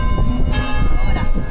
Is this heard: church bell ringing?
yes